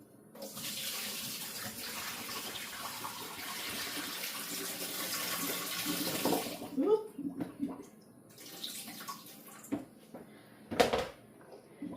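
Water pours steadily from a tap into a container for homemade cranberry apple juice, a close, hissing stream that stops partway, followed by scattered knocks and clatter of handling.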